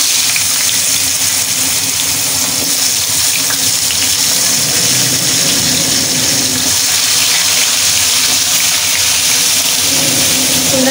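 Potato pieces fry in hot oil for a Bengali hilsa and bottle gourd curry, making a loud, continuous, close-up sizzle and hiss that never pauses.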